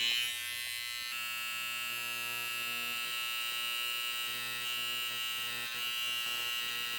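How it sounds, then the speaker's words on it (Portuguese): A hair clipper cutting hair while a razor part is etched in, giving a steady close electric buzz with a constant hum throughout and slight changes as the blade touches the hair. "Eu venho simplesmente encostando a máquina, cortando os cabelos que estão em cima."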